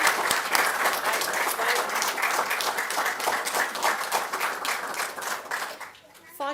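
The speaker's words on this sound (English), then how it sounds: "Would everyone please join me in a round of applause for Recruit Course" A crowd at a fire communications recruit graduation ceremony applauds loudly and steadily for several seconds with dense hand claps, easing slightly near the end as a brief voice cuts in.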